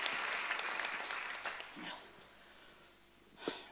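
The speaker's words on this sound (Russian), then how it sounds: "Я думаю, что нужно еще раз аплодировать и воздать славу Господу." A church congregation applauds at a moderate distance, a dense burst of clapping that thins out and fades after about two seconds, with a few breaths and a short rustle afterwards.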